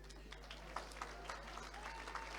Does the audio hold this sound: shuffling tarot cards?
no